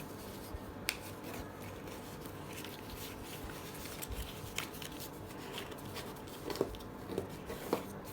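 Paper being folded and creased for an origami infinity flexagon, soft continuous rubbing and rustling with scattered sharp crinkles and taps, close and quiet.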